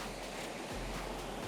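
River water pours through an old stone weir on the Apti River, a steady broadband rush that holds even and unbroken for the whole stretch, with no voices over it.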